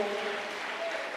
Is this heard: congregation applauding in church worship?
yes